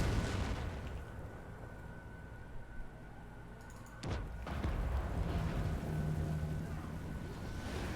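Cannon artillery fire in a strategy video game: a sharp, heavy boom lands midway through a low, rumbling battle ambience, followed by continuing dull background noise.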